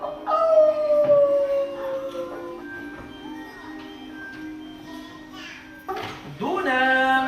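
A dog howls in long, rising and falling drawn-out tones during a Catalan puppet theatre performance, loud and close, with a brief break before a final higher howl.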